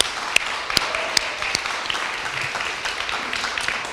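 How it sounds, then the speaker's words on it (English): A modest audience at an evening candidate debate in Remington Spa applauds, steady scattered clapping with a few sharp nearby claps standing out, moderately loud and sustained. "So a round of applause for all our candidates tonight."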